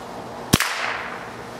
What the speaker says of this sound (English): We got a loud crack on that last one, which means it broke the sound barrier